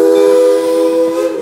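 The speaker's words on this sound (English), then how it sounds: "The Poulsen 70 steam locomotive on the Mount Rainier Scenic Railroad is a century old." A century-old Poulsen 70 steam locomotive on the Mount Rainier Scenic Railroad sounds a steady, loud steam whistle, a sustained tonal blast lasting the whole short moment.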